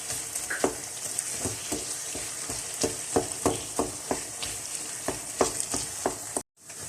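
Nashasta halwa fries in a pan with a steady close sizzle, broken by regular scraping stirs of a spoon against the pan, one roughly every half second, with a short silent gap near the end.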